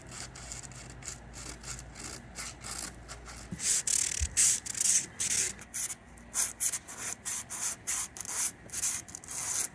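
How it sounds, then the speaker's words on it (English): A boat hull is sanded by hand, heard up close as a string of rhythmic rubbing strokes that grow louder and scratchier partway through, with no talking. "So much sanding."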